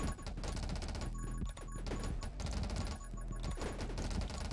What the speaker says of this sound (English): I'm shooting quite a bit right now